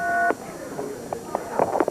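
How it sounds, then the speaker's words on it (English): Telephone tones sound as a call is dialed on a wrestling TV show, with a steady tone at the start and then several short, separate beeps close by. "And this guy over here is Lance Russell, and he's trying to get the goose, Jerry Lawler, on the phone"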